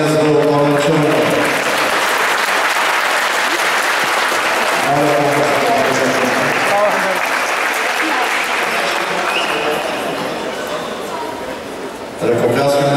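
Sustained crowd applause for the Chernomorets Varna team at a mayor's cup award ceremony, steady and dense across the whole stretch, with a voice speaking over it and a brief dip near the end.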